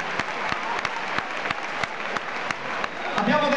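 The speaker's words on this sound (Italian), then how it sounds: "Un bel applauso a Tommaso" A concert audience applauds at the Mediolanum Forum during a rap and pop show: dense, sustained clapping from a large arena crowd, loud and close, with sharper individual claps poking out and a slight swell near the end.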